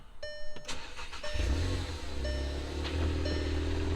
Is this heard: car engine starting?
yes